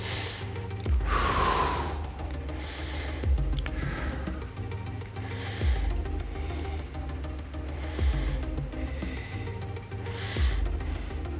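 Slow, close breathing comes from a person holding a seated yoga twist stretch. About five soft inhale and exhale cycles repeat evenly over a faint steady background hum.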